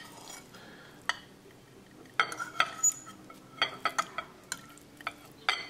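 Raw inch-sized fish pieces being stirred into a smooth beaten marinade in a bowl, producing soft wet squelches punctuated by irregular sharp clinks of a utensil against the dish, close and fairly quiet.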